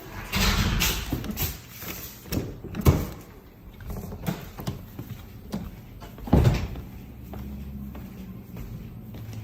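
A door opens into a studio project space, with several knocks, clunks and rattles of the door mechanism and a couple of louder thumps near the start and middle, followed by quieter room handling sounds.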